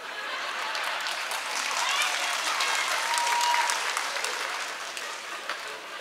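An audience at a political gathering of a communist party in Nepal claps continuously and fairly loudly for several seconds, a dense even patter that swells slightly in the middle before easing off.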